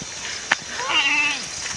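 A goat bleats once near the camera outdoors near a waterfall, a short wavering cry rising and falling over steady rushing water noise.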